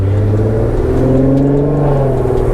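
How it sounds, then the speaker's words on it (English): A tuned Q50 car engine revs steadily with a deep, throaty exhaust drone, loud and close, rising slightly in pitch over a couple of seconds. "little natural pops on the exhaust"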